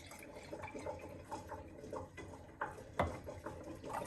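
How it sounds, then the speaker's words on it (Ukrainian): Plain vinegar poured into a cooking pot for pickling chili peppers, a quiet liquid gurgle and splash with a few soft clunks, faint and close. "також 200 мл виливаємо сюди звичайного оцету"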